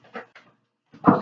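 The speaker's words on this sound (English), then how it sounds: "he likes to get whiny and annoying when he's not right next to you" A young puppy whines and whimpers in short, high cries, two soft ones followed by a louder, closer whine after a brief pause, with no talk.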